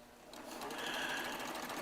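A Baby Lock Triumph serger sews side seams, a steady rapid whir rising quickly and running continuously up close.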